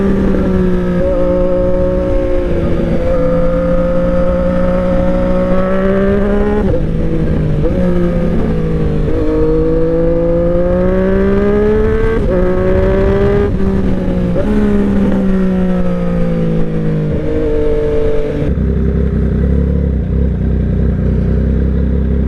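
A 2020 Triumph Street Triple 765 RS engine idles and burbles at low revs, its exhaust note rising and falling gently, close and continuous, then settling into a deeper rumble.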